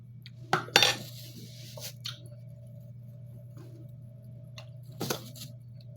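Cutlery clinks and scrapes against a plate during a meal of paratha and goat leg, a few sharp metallic taps near the start and again later, close and otherwise quiet.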